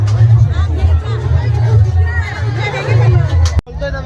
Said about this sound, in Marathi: आणि खाण्यासाठी गर्दी बघा किती मित्रांनो